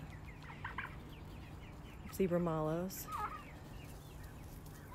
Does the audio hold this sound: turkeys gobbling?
yes